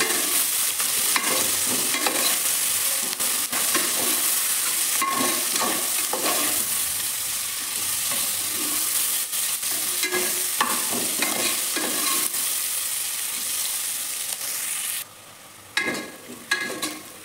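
Chopped onions frying in hot oil in a pan for chicken biryani, a steady close sizzle with repeated scraping stirs throughout; the frying briefly quietens near the end before a few more stirs.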